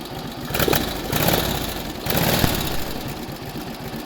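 A 1948 Indian Chief motorcycle engine running just after a cold start, loud and close, with a steady, uneven low thumping idle and no talking.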